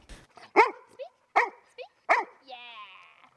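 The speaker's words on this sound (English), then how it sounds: "These may look like regular golden retrievers to someone passing by, but Shaw and Hunter are a lot more than the" Golden retriever service dogs give three sharp barks at an even pace, close and loud, followed by a short whine-like tail of sound. The sound is clear, with little else around it.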